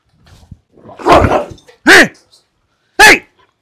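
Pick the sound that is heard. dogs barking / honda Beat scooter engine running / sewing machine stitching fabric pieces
dogs barking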